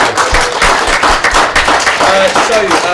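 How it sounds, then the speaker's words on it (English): An audience at a live whale festival show breaks into applause, a dense wash of clapping from a large crowd in a hall with a voice speaking over it. "Give them a massive round of applause."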